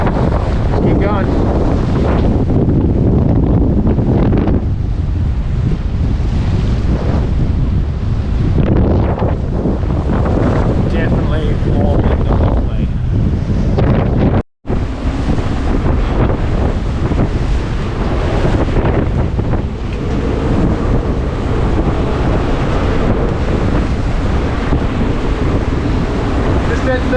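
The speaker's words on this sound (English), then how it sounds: "At 35 knots." Strong winter wind roars across the microphone on a sailboat in a storm, with waves and rushing water beneath, a constant loud buffeting wash broken by one brief dropout.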